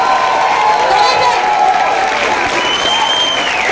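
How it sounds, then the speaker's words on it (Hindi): Loud, dense audience applause fills a hall at a group presentation event, continuous and even throughout, with crowd noise and a few whistle-like cheers rising above the clapping. "आपके लिए जोरदार ताली हो जाए, ऐसे ताली बजाओ"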